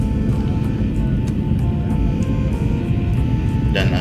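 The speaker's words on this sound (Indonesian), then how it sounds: "Alhamdulillah, akhirnya pesawat mendarat dengan mulus." Steady, loud rumble of a passenger airplane landing on the runway in Lombok, heard from inside the cabin as a continuous low roar with a faint whine and a brief rattle near the end.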